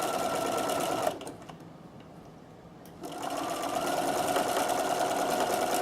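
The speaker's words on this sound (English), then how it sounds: "Now I'm going to start sewing, and as I'm sewing it's going to change to show you what I'm stitching" A sewing machine stitches hearts and letters onto a postcard, its steady motor whir running loud and close, stopping for about two seconds partway through, then resuming at a constant pace.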